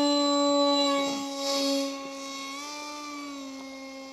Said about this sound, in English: Ooh, yeah, the motor works.